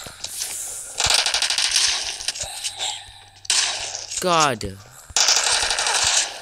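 Rapid automatic gunfire in PUBG's zombie mode, loud bursts broken by pauses and mixed with other game sounds, with a person talking over the action.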